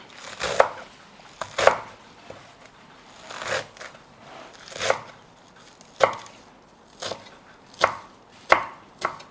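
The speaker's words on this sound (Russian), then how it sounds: "при тушении добавим зелень, а потом, когда уже будет готово, тогда еще свежей зелени добавим. Мелко режем." Fresh herbs are finely chopped on a cutting board for Armenian khashlama, a series of separate crisp knife chops at an unhurried irregular pace, close and fairly quiet.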